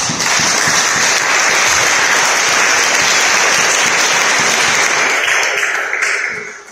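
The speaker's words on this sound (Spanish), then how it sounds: "Pero un aplauso al que vive" A congregation at a Spanish-language church service bursts into loud, dense applause that holds steady and close for several seconds before easing slightly at the end, with no talk over it.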